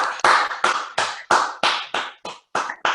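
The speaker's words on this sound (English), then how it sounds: "give yourselves a clap" A small workout class claps at the end of a circuit session, about nine sharp claps at a steady, slightly uneven rhythm, loud and close.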